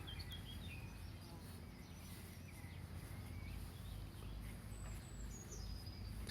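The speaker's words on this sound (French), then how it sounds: "Vous entendez les oiseaux qui semblent chanter pour vous." Birds sing faintly near a tree in a calm outdoor setting, thin chirps and trills drifting over a steady low background rumble.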